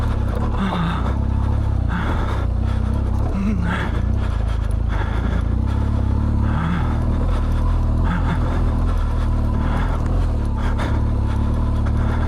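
BMW HP2 motorcycles climbing through soft sand in the Simpson Desert, their engines a steady, loud, rough rumble that surges and labours continuously.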